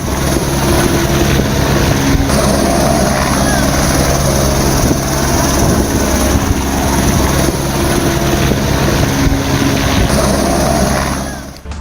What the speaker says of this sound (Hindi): यह है रुद्र अटैक हेलीकॉप्टर